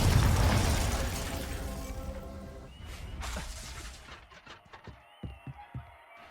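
Confringo blasting spell going off in the video game Hogwarts Legacy: a loud roaring burst at the start that fades into a rumbling tail, followed by several sharp crackling pops and impacts near the end.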